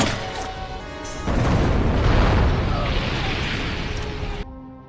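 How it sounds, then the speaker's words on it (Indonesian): A car explodes in a gangster film with a sudden heavy blast that swells into a broad, sustained roar and then cuts off, with a voice faintly present underneath. "Situasi berubah menjadi peperangan setelah sebuah mobil diledakkan."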